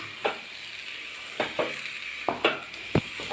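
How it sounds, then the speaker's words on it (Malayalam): Vada mixture of green plantain being stirred in a pan on the stove, soft sizzling under a series of spoon scrapes and taps against the pan, spaced irregularly. "അടപ്പത്ത് വെച്ച് തന്നെ ഒന്ന് മിക്സാക്കാണ് കേട്ടോ"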